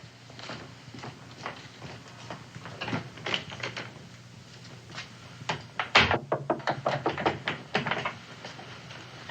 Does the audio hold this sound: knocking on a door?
yes